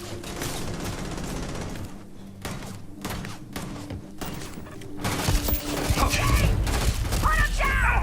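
Rapid bursts of gunfire and heavy thuds from a firefight in the video game Starfield, growing louder and denser toward the end, with shouted voices mixed in.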